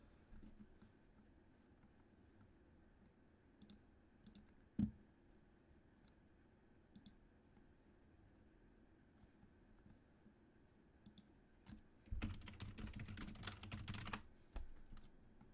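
Steady typing on a loud computer keyboard during a Marvelous Designer livestream, a quiet patter of key clicks for most of the stretch that turns into a louder, denser burst of clacking toward the end, with no talking.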